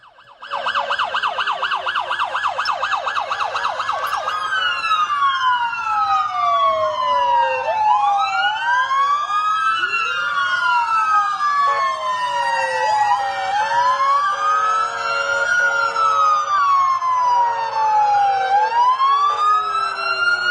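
An ambulance siren on a road south of Nablus wails loud and close without a break, first with a rapid yelp pattern and then with long rising and falling sweeps.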